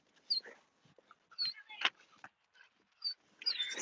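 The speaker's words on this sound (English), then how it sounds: "We found a dog here." A found dog whimpers and yips in short, high, broken cries, several soft whines spread across a quiet space, with faint human sounds in between.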